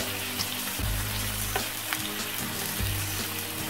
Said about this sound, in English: So now I'm gonna be cooking it from the side.